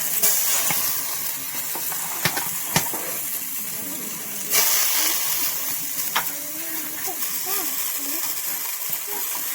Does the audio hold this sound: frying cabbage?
yes